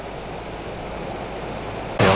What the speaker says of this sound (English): So peaceful just here, with the sound of the water as well.